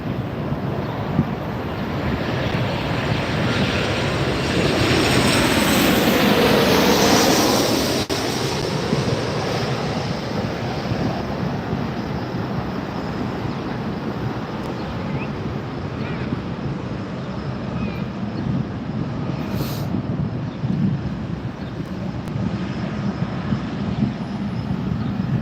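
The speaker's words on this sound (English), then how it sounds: "So this is a Boeing 777-300" A Boeing 777-300ER jet at LAX swells as a loud, broad engine roar that peaks near the middle and then fades into a lingering rumble of airport noise. Voices talk faintly underneath.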